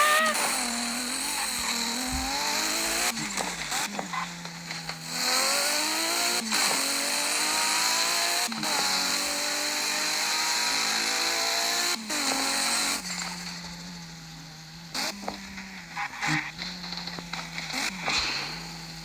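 A Twingo engine revving hard while drifting, rising in repeated pitch sweeps with short throttle blips and gear changes, loud and close from inside the car, with no speech.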